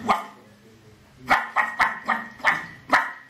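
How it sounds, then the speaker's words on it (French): Several dogs barking in short sharp bursts, about six barks spaced irregularly across a few seconds, fairly close and clear with no talk over them. "les chiens jappent, les chiens clabaudent, les chiens hurlent, les chiens aboient"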